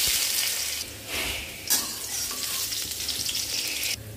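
Crushed garlic and cumin seeds frying in a little hot oil, a loud, steady close sizzle with brief surges as the pan is stirred.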